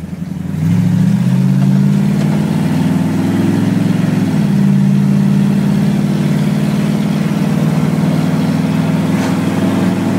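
A car engine pulls hard along a road, its steady drone climbing in pitch before a brief shift and then holding a strong, even note at speed. It is loud and close, with no talking.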